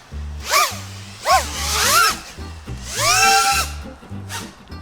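Quadcopter flying on unusual propellers, giving off repeated rising and falling whining bursts as the motors rev up and down, with steady low tonal hum underneath; loud and close, no talk.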